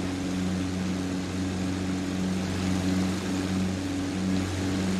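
A de Havilland Chipmunk's piston engine and propeller drone steadily in flight, close and loud, with a continuous layered hum that holds even throughout.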